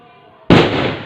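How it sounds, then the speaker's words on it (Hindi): A firecracker set off during Diwali celebrations goes off with one sudden, loud, close burst after a quiet moment, then leaves a sustained crackling roar that slowly fades. "पटाखों का इंतज़ाम किया है"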